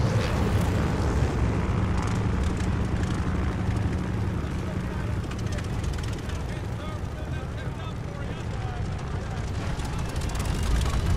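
Propeller plane engine drones low and steady throughout a Call of Duty: Vanguard scene, a constant heavy rumble with voices talking over it.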